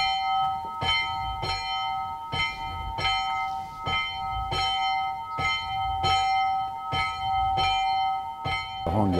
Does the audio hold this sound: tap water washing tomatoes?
no